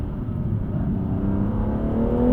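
BMW 2-series engine pulling in first gear, a steady low drone whose pitch climbs smoothly as the car accelerates, heard from inside the cabin without talk.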